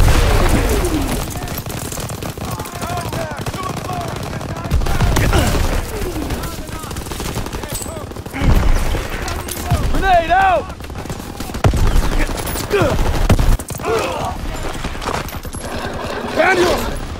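Gunfire in a World War II battle in Aachen in Call of Duty, with bursts of rifle and machine gun shots and booms under shouted voices.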